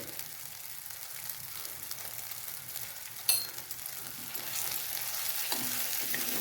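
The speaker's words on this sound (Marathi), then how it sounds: "थोडंसं मसाला तेलात परतून घ्यायचा" Masala sautés in oil for an egg curry, a soft steady sizzle at moderate distance with a sharp clink partway through and the frying growing a little louder toward the end, no voices.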